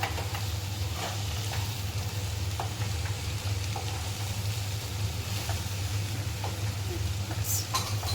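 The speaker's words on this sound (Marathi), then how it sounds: "भेंडी टाकू जरा गॅस मोठा करायचा आणि थोडं फास हलवत राहायचं त्याला" Okra stir-fries over a high flame, a steady broad sizzle over a low hum, with scattered spatula scrapes and clicks, moderately quiet and close throughout.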